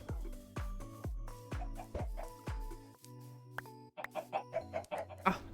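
Chickens clucking repeatedly around a farm while new land is cleared, a series of close, loud rhythmic thumps mixed in with the bird calls and some clatter toward the end.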